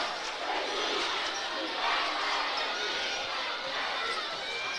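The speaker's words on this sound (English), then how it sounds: "This crowd's getting behind them now." A basketball crowd in a school gym during a district championship game gives a steady, dense roar of cheering and chatter, loud and continuous with a slight swell midway, alongside faint court sounds.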